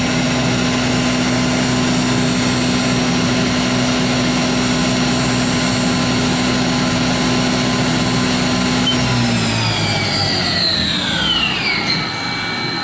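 A Haas VF-5XT CNC vertical mill from 2007 spins its spindle up at 7,500 RPM, giving a loud, steady high-pitched whine with machine hum. Near the end the pitch sweeps downward as the spindle slows.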